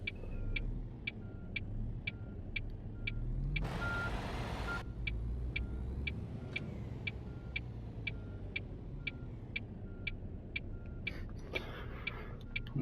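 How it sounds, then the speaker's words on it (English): Lorry reversing alarm in a driving video game, a steady series of evenly spaced high beeps over continuous engine rumble, with a brief burst of hissing air brakes partway through. "I'm getting used to reversing these lorries now."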